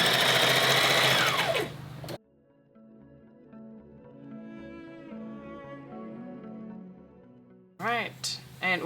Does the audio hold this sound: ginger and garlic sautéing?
no